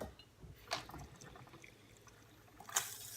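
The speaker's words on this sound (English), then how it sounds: "I'm going to turn my water on." Tap water trickling into a jar through the hoses of a Kangen water machine, faint and close, with a soft irregular dribble and a few brighter splashy bursts.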